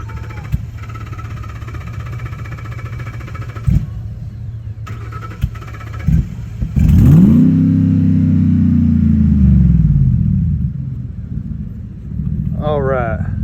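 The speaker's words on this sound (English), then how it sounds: "Start it up, give it some gas." An off-road truck stuck in a hole during a recovery coughs to life and revs loudly, the engine pitch climbing and then sagging over several seconds, with voices talking nearby and wind noise around it.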